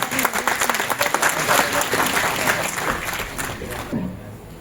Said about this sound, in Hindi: पायनाइट्स के लिए एक बार जोरदार तालियां।